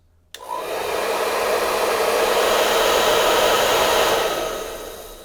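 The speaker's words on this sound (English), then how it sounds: "I'm going to go ahead and turn on this hair dryer, warm this up" A hair dryer switches on with a click and blows a steady, close whooshing roar for several seconds before trailing off, warming York's Gun Armor scented wax on a blued gun finish.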